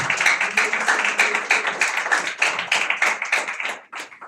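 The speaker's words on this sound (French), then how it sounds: "Applaudissez s'il vous plaît." Clapping fills a church conference hall, many hands close by in a quick rhythmic patter, loud and unbroken before thinning out near the end, with no speech.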